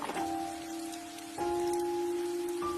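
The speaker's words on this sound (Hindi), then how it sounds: "फिर से तेज बारिश शुरू हो गई" Heavy rain pours down in a steady, hissing wash, with a sustained low droning tone running beneath it that shifts pitch twice.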